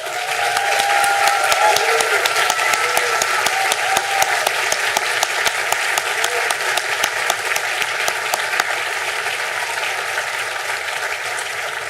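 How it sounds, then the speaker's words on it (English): A large audience claps steadily and loudly for over ten seconds, a dense continuous wash of applause with faint voices mixed in. "I think that deserves a round of applause."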